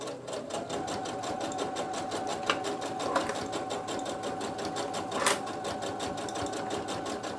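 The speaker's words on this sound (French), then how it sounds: "je tourne mon travail et je continue ma surpiqûre" Sewing machine topstitching fabric for a DIY cutlery pouch runs continuously with a fast, even needle rhythm, close and prominent, with a few small clicks as the work is turned.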